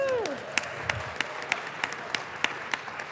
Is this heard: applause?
yes